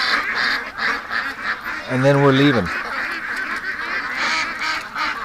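Domestic ducks honk and quack in a short burst near a freshly cleaned water pen, rising and falling over about a second amid steady background noise, with a person speaking briefly.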